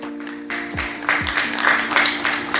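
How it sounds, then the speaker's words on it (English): Clapping from a crowd of children at a school story writing event, a steady patter of applause that swells after the first second, alone without talk. "give a big round of applause for the participating spirit"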